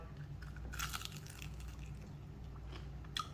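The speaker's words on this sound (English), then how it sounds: "So you get that nice crunch" Crunching bites into crackly, hot-and-fast seared smoked porchetta skin, quiet and close, with a few crisp crackles over a low background hum.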